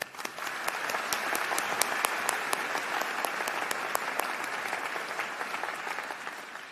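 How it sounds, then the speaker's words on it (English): A graduating crowd at a spring university convocation breaks into sustained applause, a dense and even wash of many hands clapping, with a few crisp claps standing out, held steady throughout and fairly distant. "So just another round of applause."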